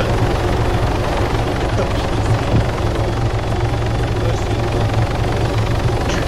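An Arma 3 video game helicopter drones steadily throughout, its rotor and engine forming a loud, constant low roar with no pauses.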